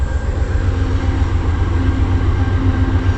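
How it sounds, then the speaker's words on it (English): A whole train rolls down the line beside a riverside sand camp on the West Virginia–Kentucky border, a loud, steady low rumble with continuous wheel noise and no talking. "I hear the train coming too."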